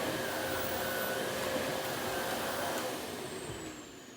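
An Oreck Dutchtech DTX 1300 upright vacuum cleaner runs on carpet with a steady, close whirring drone that fades slightly toward the end, with no voices.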